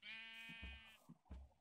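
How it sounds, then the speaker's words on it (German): A cow being slaughtered in Minecraft lets out a short, close, bleating moo, followed by a couple of soft low thuds. "Ich bin gerade eine Kuh abschlachten"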